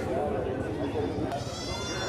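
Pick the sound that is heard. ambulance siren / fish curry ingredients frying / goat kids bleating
goat kids bleating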